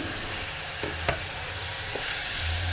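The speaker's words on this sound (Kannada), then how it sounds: "ಈಗ ಈರುಳ್ಳಿ ಮೆಣಸಿನ್ಕಾಯಿ ಎಲ್ಲ ಫ್ರೈ ಆಯಿತು" Onions and green chillies frying in a pan, a steady soft sizzle with a few light scrapes and taps of stirring, close by and without talk.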